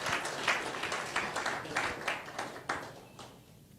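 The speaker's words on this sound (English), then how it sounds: "Big, big round of applause, ladies and gentlemen." A small audience claps in a thin, uneven patter with a few sharper accents, fairly faint and fading toward the end.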